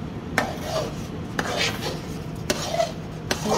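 Suji being stirred and roasted in ghee in a pan for halwa, with a few sharp scraping clinks of a spoon against the pan over a soft continuous sizzle.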